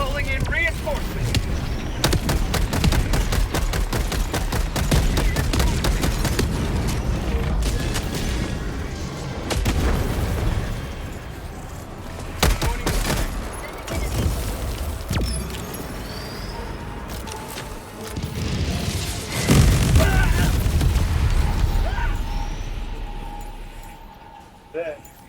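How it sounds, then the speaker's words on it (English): Grenade blasts and gunfire in the video game Helldivers 2, with deep booms and dense rattling shots running loud and continuous throughout, under frequent player voice chatter. "Throwing grenade!"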